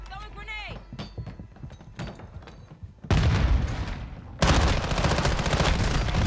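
Close, loud automatic gunfire in Call of Duty Warzone 2 erupts in two sustained bursts after a stretch of quieter game sounds and talking, each burst dense and rapid.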